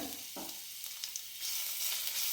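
Garlic paste sizzles and fries in a hot pan with cloves and cardamom, a steady close hiss with a few soft stirring scrapes and a swell of sizzle partway through.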